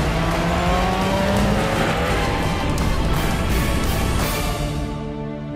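A Nissan DeltaWing race car, built for Le Mans endurance racing, roars loudly and steadily at close range, its engine note holding strong before tailing off slightly at the end.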